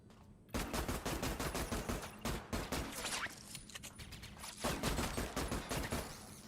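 Rifle gunfire in a video game, rapid bursts of loud close shots in quick repeated volleys, with a brief pause midway before the firing resumes.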